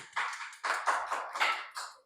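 A studio audience gives a short burst of applause for a returning guest, with uneven rounds of clapping rising and falling in several waves close by.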